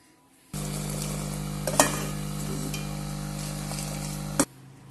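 Kashmiri pink chai simmers in a pot while a ladle keeps stirring it, giving a steady close bubbling hiss that starts abruptly and stops abruptly, with a couple of brief knocks of the ladle.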